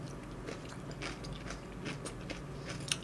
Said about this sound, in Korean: 마이크 앞에서 먹으면 더 먹는 소리가 집중해서 들려서 더 쩝쩝거린다고 들리는 것 같아요